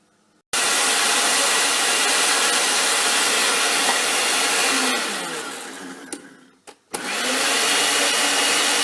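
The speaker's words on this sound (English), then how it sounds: "It's then placed into the blender, in which it will now blend for a while" A blender whirs loud and steady, pulping a mixture for a homemade aquarium ich treatment, holds for several seconds, then sputters and briefly cuts out before starting up again.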